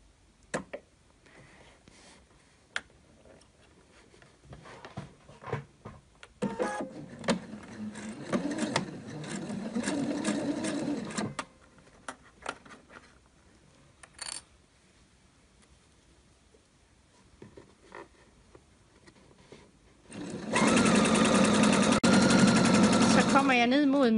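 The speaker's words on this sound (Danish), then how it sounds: "Og syr lynlåsen på samme måde." Domestic sewing machine stitching a zipper into a child's ruffled dress, two bursts of rapid, close stitching: one shorter run midway and a loud sustained run at the end, with quiet handling between.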